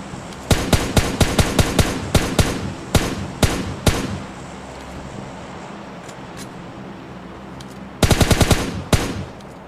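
Bursts of automatic gunfire in the shooting game PUBG Mobile: a rapid string of sharp shots, a few single cracks, a pause, then another quick volley near the end, loud and close with no voices.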